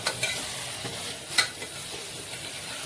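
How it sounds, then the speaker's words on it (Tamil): Ground onion, tomato and garlic paste stirred into a hot pan for an eggplant and potato tamarind curry, a soft continuous sizzle with a few light spoon scrapes and taps, close by. "வெங்காயம் தக்காளி அரைச்சி பூண்டு மூணையும் அரைச்சி வச்சது போட்டு கிளறிக்கலாம்"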